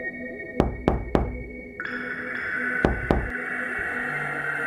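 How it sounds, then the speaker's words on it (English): A horror-story sound effect of someone knocking on a door: three sharp knocks in quick succession, then two more a moment later, set over a low, droning eerie background. "Then, at exactly 3:07 a.m., knock,"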